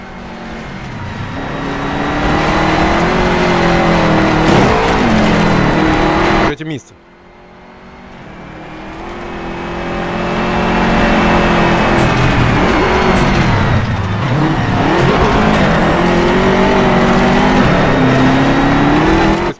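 Rallycross car engines from the DiRT game, with Subaru and Toyota cars racing in Great Britain, rev and climb through the gears loudly and continuously, with a brief dip midway as a voice talks over them.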